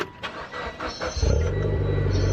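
A Mitsubishi Lancer Evolution X engine cranks briefly with a few soft clicks, then catches and settles into a steady, close idle rumble.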